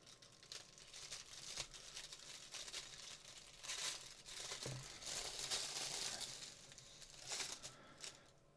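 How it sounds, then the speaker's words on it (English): Tape being peeled and pulled off a Power Rangers Turbo Blue Centurion toy, faint crinkling and tearing scratches close by, coming in short uneven bursts with quiet pauses between them. "A little bit more tape."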